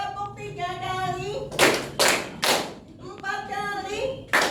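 A class claps in counted bursts of one, two and three, the sharp group claps landing between a teacher's spoken instructions in a classroom.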